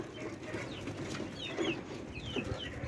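Indian chickens at the Friday bird market in Mosul, with scattered clucks and short bird calls over a steady bustle of market background noise.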